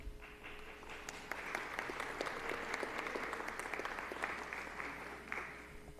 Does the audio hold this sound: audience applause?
yes